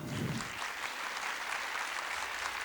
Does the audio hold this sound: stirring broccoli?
no